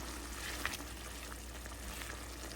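Sour, spicy and sweet amla pickle cooks over heat and gives off a faint, steady sizzling hiss that stays even throughout, with one small pop and no voice.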